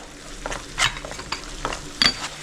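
Spiced chicken roast mixture with chilli powder and cumin powder being stirred in a pan, giving a few soft scraping strokes over a faint steady sizzle, close and fairly quiet.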